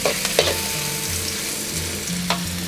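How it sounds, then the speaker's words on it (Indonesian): Fu yung hai sizzles steadily in a frying pan while being stirred, with a few sharp scrapes of the utensil against the pan over the constant frying hiss. Nobody speaks. "Kita aduk sebentar."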